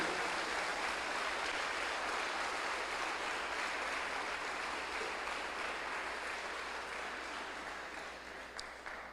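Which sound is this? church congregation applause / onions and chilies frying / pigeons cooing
church congregation applause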